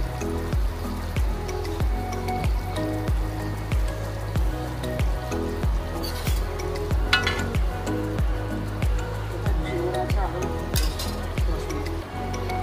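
Bhetki fish pieces dropped into simmering red curry, with a steady close sizzle and bubbling, regular clinks of a utensil and soft talk underneath.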